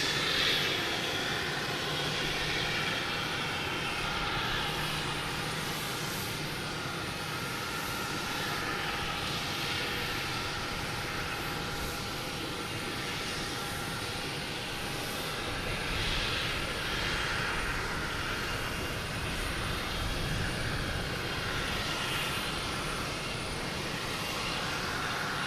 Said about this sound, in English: Next to arrive is a JetBlue coming in from Philadelphia. An E190 flight